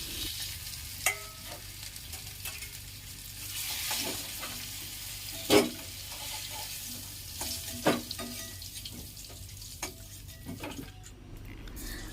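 Oil and sugar heating in a wok, a low steady sizzle with occasional sharp clinks and scrapes of a utensil against the metal, moderately close, no talking.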